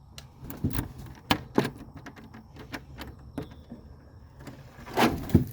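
Close metallic clicks, rattles and knocks of a latch or lock being worked on a chicken coop door, irregular and fairly faint.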